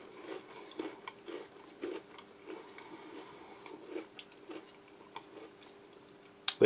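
Close crunchy bites and chewing on cheese-filled crackers, a series of soft irregular crunches, quiet and up close.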